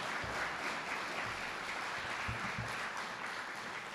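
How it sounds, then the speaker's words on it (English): Audience applause for the Prime Minister and the Chairman at a business power breakfast: a fairly quiet, continuous patter of many hands clapping at a distance, steady for the whole stretch. "Please let's give the Prime Minister and our Chairman another round of applause."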